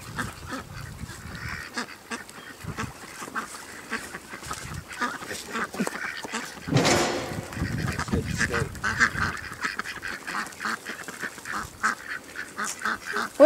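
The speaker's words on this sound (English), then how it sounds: "No, those are Muscovy ducks." Muscovy ducks call from a farm setting, with soft, irregular quacking and hissing under continuous outdoor background noise and a louder burst partway through.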